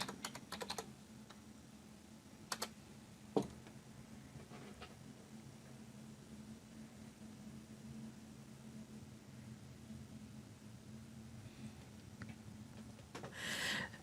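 Someone types on a computer keyboard, producing a few faint, sparse key clicks over a quiet room hum.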